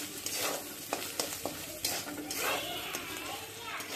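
Ground cumin and ginger paste sizzles in hot oil in a pan, with frequent scraping stirs and clinks close by, while someone talks over the frying.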